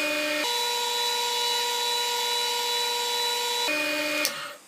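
A wood lathe spins a cocobolo pen blank for a Baron fountain pen while friction polish is applied, giving a steady, loud motor whine with sustained tones that drops pitch midway, then a brief squeak as it winds down at the end.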